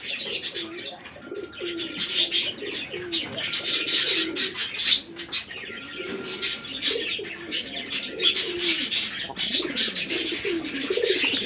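Pigeons at a breeder's sale cooing: repeated low, rolling coos from several birds close by, overlapping rhythmically over a busy background of chirps and rustling.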